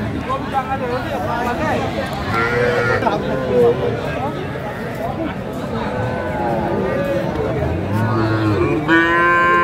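Cattle low repeatedly with drawn-out moos at a busy Naogaon livestock market where young calves and Sahiwal bulls are traded, set against constant crowd chatter and nearby talking.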